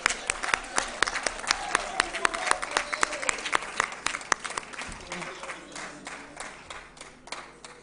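Audience applause at an economic forum on development strategy for the 145 territories of the DR Congo: dense clapping with scattered sharp claps over several seconds, gradually thinning toward the end, with a faint voice underneath.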